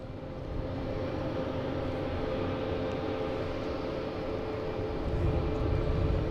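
A Delta Airbus A220 arriving from Austin at Boston Logan International Airport, a steady low jet roar heard at a distance that grows slightly louder toward the end, with no voices.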